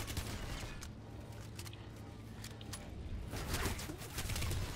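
Rapid turret gunfire from Planetside rattles on at a steady pace for several seconds, dense and mid-distance, with brief louder bursts toward the end and no voices over it.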